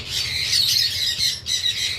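A cockatiel at a bird breeding collection gives several harsh, close squawks in quick succession, with a brief gap before the final burst and no talking.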